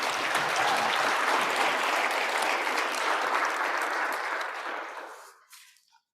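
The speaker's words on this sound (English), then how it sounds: "I think that deserves a round of applause." Audience applause at an Indigenous youth entrepreneurship panel, a dense steady wash of many hands clapping that holds strong for several seconds, then thins and fades out near the end.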